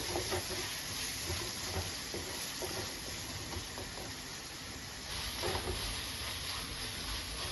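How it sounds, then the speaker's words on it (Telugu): Tomato pieces fry in a pan of mutton bone curry, giving a soft, steady sizzling hiss that runs evenly throughout at a low, close level with no talking. "ఇప్పుడు టమాటా పీస్ కూడా వేసేద్దామండి దీంట్లో ఇది కూడా కొంచెం ఫ్రై అవ్వాలి"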